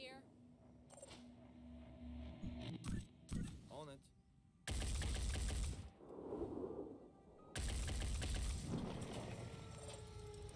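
Bursts of loud gunfire in the video game Phoenix Point fire in several volleys, separated by mechanical clicks and whooshes, with a voice speaking between shots.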